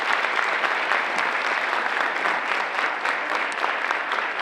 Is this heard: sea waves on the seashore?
no